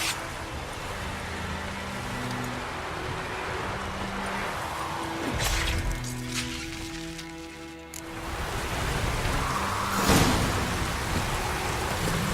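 Steady rain pours down without pause in The Witcher 3: Wild Hunt, a constant hiss broken by a few sharp cracks and low rumbles, with no voices.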